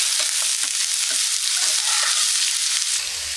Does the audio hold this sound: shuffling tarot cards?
no